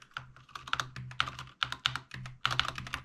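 Keystrokes on a new computer keyboard clatter in quick irregular bursts of clicks and taps, close and fairly quiet, with short pauses between runs of typing and no speech.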